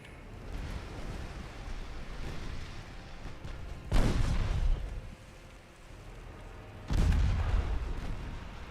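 Naval guns firing during a battle in Ultimate Admiral Dreadnoughts: two heavy, booming salvos a few seconds apart over a steady ocean and wind wash, each blast leaving a rumbling tail.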